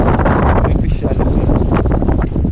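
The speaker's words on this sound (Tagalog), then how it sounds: "Ang hangin dito sarap." Strong outdoor wind buffets the microphone in loud, continuous low rumbling gusts, filling the whole moment without any break.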